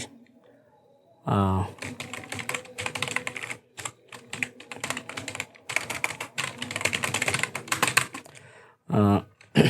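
Fingers clatter across a computer keyboard while typing code, in bursts of rapid close clicks with brief pauses, and a voice speaks briefly before and after the typing.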